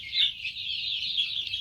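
Chickens calling in a rural yard of about thirty birds, a steady, fairly loud clucking and chirping close by, with no talk over it.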